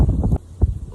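Strong gusty wind on a golf course during a tornado watch buffets the microphone in short rumbling bursts, loud and close.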